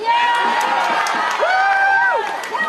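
A large crowd at a voting rights rally on the Texas capitol grounds cheers and whoops loudly and steadily, with shouts and high-pitched yells rising over the roar throughout.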